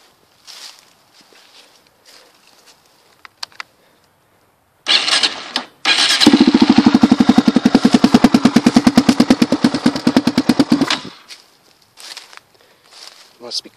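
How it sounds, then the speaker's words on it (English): A 2004 Yamaha Raptor 660 ATV with a DG exhaust starts up after quiet clicks, then idles with a fast, loud, rhythmic popping thump for several seconds before cutting off. "Sounds really nice with that DG exhaust."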